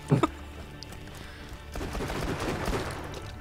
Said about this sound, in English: Why am I being shot at?